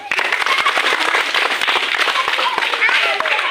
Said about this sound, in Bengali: সবাই একটা উমায়ের জন্য হাততালি দাও।